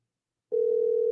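A steady telephone ringback tone sounds during a call, starting abruptly after a short silence and holding one loud, unbroken pitch to the end.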